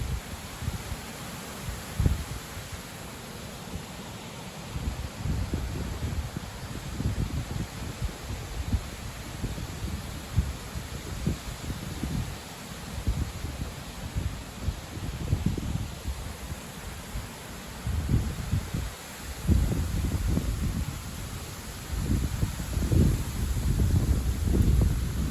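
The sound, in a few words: strong wind blowing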